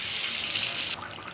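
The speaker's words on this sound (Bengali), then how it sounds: "কষানো হয়ে গেছে, এবার দিয়ে দেবো জল।" Water poured into a hot curry pan of spiced potato and tomato, a bright rushing hiss for about a second that cuts off abruptly, leaving a softer simmer.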